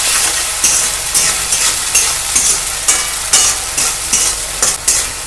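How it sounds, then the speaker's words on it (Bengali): Tomato paste sizzling with onions in a frying pan, stirred with steady scraping strokes that come every second or so over a continuous close, loud frying hiss. "এই টমেটো বাটাটা কিন্তু এই পেঁয়াজের মধ্যে ঢেলে দিলাম, সুন্দর করে মিশিয়ে নেব"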